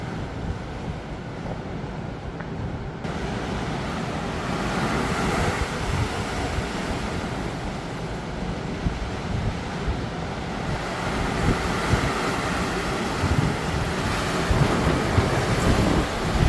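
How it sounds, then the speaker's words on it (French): Violent Storm Nils wind in Bordeaux, roaring and buffeting the microphone in a loud, continuous rush with gusts swelling and easing, no rain or voices. "le vent est très très très violent"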